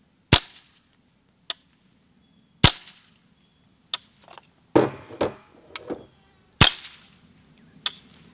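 Three sharp, loud suppressed .22 shots of Norma TAC 22 ammunition through a Resilient Suppressors Jessie's Girl suppressor, spaced a few seconds apart, with quieter mechanical clicks and clatter between them.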